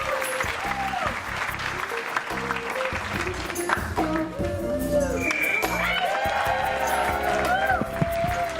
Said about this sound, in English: Get a big round of applause for that beautiful performance.